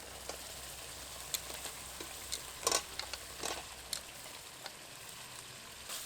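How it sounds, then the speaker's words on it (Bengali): Marinated soya chaap sizzles in hot oil and spiced masala. A steady, quiet fry fills the pan, broken by a few sharp clicks and scrapes of stirring. No one speaks. "এবার মশলার সাথে সময় নিয়ে খুব ভালো করে কষাবো।"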